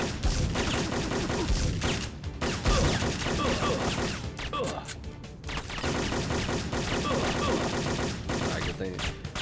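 Gunfire in the Syphon Filter game during a mission in an expo center, dense sustained bursts of shots that nearly fill the whole stretch, with a brief lull in the middle and talk mixed in.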